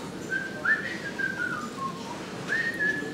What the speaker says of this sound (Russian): Я свистеть люблю.